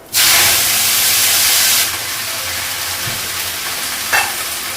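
Leafy greens frying in a pan with black cumin seeds in a home Bengali kitchen, a loud sizzle bursting up as they hit the hot oil, then a steady hiss with a few stirring scrapes and no talk.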